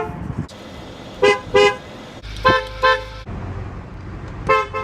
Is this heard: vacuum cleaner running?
no